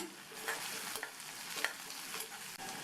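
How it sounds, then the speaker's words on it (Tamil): Shallots and curry leaves sauté in a pan of hot oil, giving a steady soft sizzle with a few light scrapes of a spatula stirring, close and fairly quiet, with no voices. "அதை சேர்த்துட்டு இந்த வெங்காயத்தை லேசாக வதக்கிக்கணும்."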